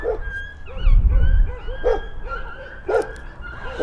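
Stray dogs at a rubbish dump bark and yip in quick, overlapping bursts, several animals at moderate distance over a low rumbling background.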